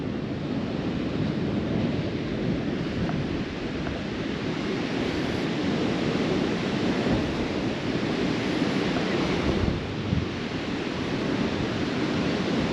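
Surf breaking on the beach at Galveston Island, a continuous broad roar of waves with wind buffeting the microphone, steady and loud throughout without any talking.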